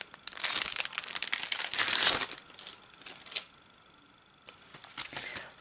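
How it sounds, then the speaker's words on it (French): An envelope is torn and opened in a series of close, crisp paper crinkles and rips, busiest at the start and then sparser, with quiet gaps between bursts. "maintenant je vais ouvrir cette enveloppe"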